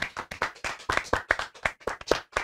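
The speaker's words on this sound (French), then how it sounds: "on peut applaudir" Applause on a French talk-show set: a small group claps in quick, sharp, slightly uneven bursts, close and clear, with no talking over it.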